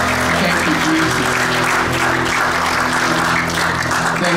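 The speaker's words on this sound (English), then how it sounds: "let's give God a clap of praise" Church congregation clapping in praise during a worship service, a dense steady applause that fills the room for the whole stretch, with a low sustained musical hum underneath.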